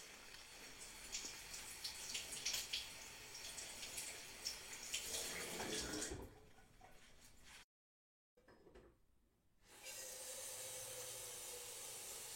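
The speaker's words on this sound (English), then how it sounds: "The first thing that we're gonna do is rinse all the fresh produce." Tap water runs steadily into a sink while fresh produce is rinsed. The hiss is fairly faint, stops with a short silence near the end, then resumes.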